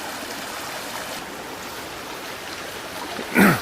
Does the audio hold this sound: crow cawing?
no